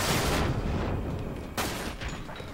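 Sniper gunfire in Dirge of Cerberus: Final Fantasy VII, two heavy booming shots about a second apart, each trailing off in a reverberant rumble amid dense game sound.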